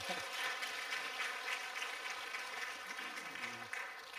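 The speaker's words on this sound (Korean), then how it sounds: "우리 다시 한번 박수하겠습니다." Faint, distant applause from a church congregation during a Sunday morning service, a dense steady patter of clapping that carries on throughout.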